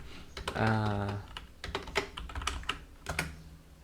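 Computer keyboard keys tapped in short irregular bursts, close and moderately loud, with a voice speaking over part of the typing.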